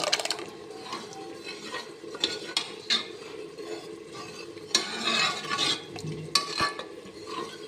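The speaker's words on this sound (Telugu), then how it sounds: "దోసకాయ కర్రీలాగా చేసినాను కదా అది ఇందులో కలిపేస్తాను పప్పు అందులో వేసేస్తాను" A ladle mixes cucumber curry into soft-cooked dal in a pot, giving soft irregular scraping and clinking strokes of utensil against the vessel, fairly close and moderately quiet, with no talking.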